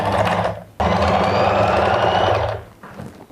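A sewing machine stitching fabric runs in a steady, close, loud whir with a rapid mechanical rhythm, pausing briefly before resuming and then slowing to a stop.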